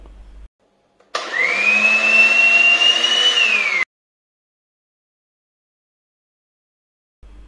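Electric mixer grinder crushing grated coconut in a kitchen, a single steady high-pitched whirring motor burst of about three seconds, close and loud, starting and stopping abruptly between stretches of silence.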